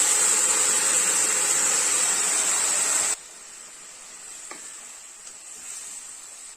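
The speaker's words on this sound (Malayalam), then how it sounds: "ഇനി ഇതിലേക്ക് നമ്മൾ വേവിച്ച് വെച്ചിരിക്കുന്ന വെജിറ്റബിൾസ് ചേർത്ത് കൊടുക്കാം." Cooked vegetables and their water poured into sautéed tomatoes for a Kerala Sadhya masala curry, giving a loud, steady sizzling hiss for about three seconds that abruptly drops to a quiet simmer with a faint stir.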